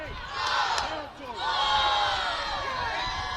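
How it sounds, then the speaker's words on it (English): A rugby crowd at a women's Division 1 semifinal roars in approval for a conversion, a broad swell of cheering and shouting that dips briefly and then rises again, sustained and fairly loud throughout. "you can hear the crowd there"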